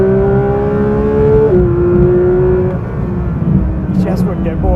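A 2022 Porsche 911 GT3 engine on a race track holds a steady high whine that shifts down in pitch and eases off, loud and close, with a voice talking over it near the end.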